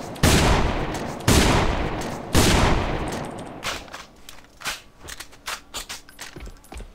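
Three loud sniper rifle shots from a DSR-1 Dreamcatcher in the shooter game AVA, spaced about a second apart, each with a sharp crack and a long decaying tail, followed by quieter clicks and bolt-handling noises.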